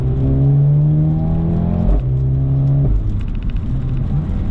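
A 2020 Mercedes-AMG A 35 engine revs hard in steady pulls, its loud droning tone climbing and then dropping sharply at each gear change, close up with no voices.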